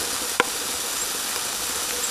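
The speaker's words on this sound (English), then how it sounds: "That is cooking. As is this one. Just a sizzling." Food sizzles steadily in a hot pan on a rocket stove, a constant bright hiss with a single short clink partway through.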